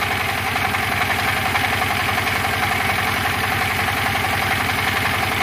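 A Dompeng diesel generator engine rated at 10,000 watts idles with a steady, rapid low thumping putter, constant and fairly loud at close range, with no talking.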